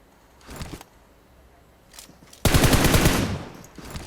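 Bursts of rapid automatic gunfire in PUBG Mobile, a short volley, a pause, then a longer louder burst, close and sharp, with no talking.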